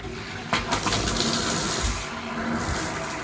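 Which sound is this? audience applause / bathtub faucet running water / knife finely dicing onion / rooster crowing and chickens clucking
bathtub faucet running water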